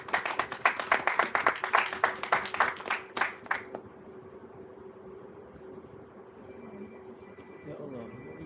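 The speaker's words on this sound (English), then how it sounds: "A round of applause, please." A student audience at a Malaysian engineering public-speaking event claps for a student speaker: a quick run of distinct, fairly loud claps for almost four seconds, then it stops abruptly and a quiet room hum remains.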